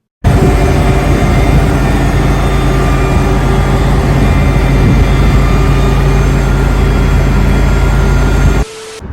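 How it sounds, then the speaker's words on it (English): A city bus engine idles loud and close with a steady low rumble and faint whine, running continuously before cutting off abruptly near the end. "Now you will hear the engine."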